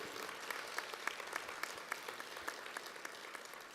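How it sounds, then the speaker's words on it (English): A crowd at an award presentation gives a steady round of applause, many hands clapping at once, with a few louder claps standing out in the distance. "Give these guys a round of applause"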